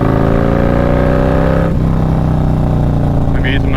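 A motorcycle rider speeds up out of a 30 mph curve, the engine note rising steadily under wind noise and a rider's voice, close and continuous throughout.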